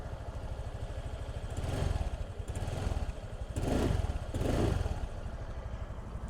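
An RKS Pride 125cc scooter engine putters steadily at idle, its exhaust rising in a few short throttle blips before settling back to a rhythmic chug.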